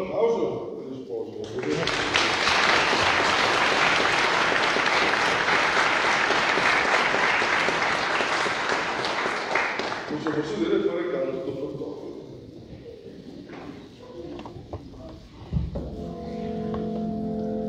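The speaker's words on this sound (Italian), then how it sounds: "E terminiamo a questo momento con un applauso per gli sposi." A church congregation at a Holy Mass applauds the newlyweds, a loud, dense wash of clapping swelling quickly and holding for several seconds before fading, followed by quieter voices and a tone.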